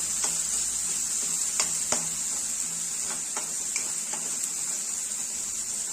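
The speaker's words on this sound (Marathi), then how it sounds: "मसाला छान असा लालसर होईपर्यंत आपल्याला परतून घ्यायचा" Ground masala of raw coconut and sesame sautéed in a pan for chicken curry, a constant faint sizzle broken by occasional scrapes of the spatula, with no talking.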